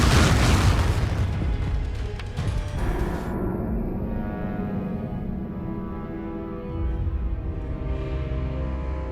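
A Confringo fire-blast spell in the game Hogwarts Legacy goes off with one loud, close explosive boom, then fades into a long rumbling tail over a steady game backdrop, with no talking.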